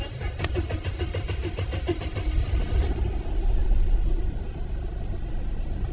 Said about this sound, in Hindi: ये स्टार्ट लंबा सेल्फ लेती है।